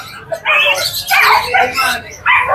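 Dogs for sale at a pet shop bark and yip in short, sharp bursts close by, mixed in with people talking.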